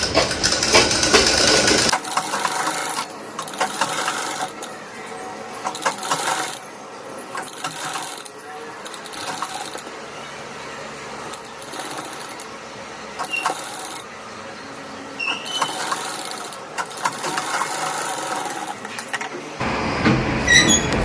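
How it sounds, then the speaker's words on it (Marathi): A sewing machine stitching the neckline of a blouse, in bursts of rapid, even mechanical chatter split by short pauses. It is close and fairly loud, and no one talks over it. "आता इथं काय करायचं आपल्याला पाच नंबरची शिलाई मारून घ्यायची"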